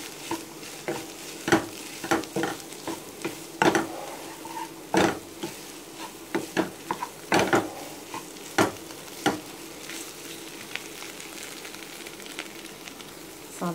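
Potato masiyal being stirred in a pan, with a series of irregular, close scraping and knocking strokes of the spoon over a low background sizzle, and no voices.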